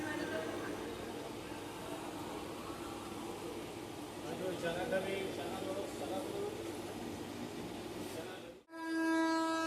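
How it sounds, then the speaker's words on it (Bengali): An express train rolls along the main line beside a stopped local train, a broad steady rumble lasting several seconds before a sharp cut to a tonal horn-like blast at the end. "আমাদের পাশের মেন লাইনে কিন্তু আরও একটা এক্সপ্রেস ট্রেন এসে পড়েছে"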